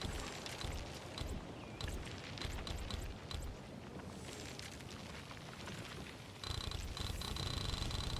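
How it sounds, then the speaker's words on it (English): Steady cat purring from Arknights: Endfield, a continuous low rumble running through the whole stretch, with busy game effects layered over it and no voices. "I cannot listen to that stupid cat."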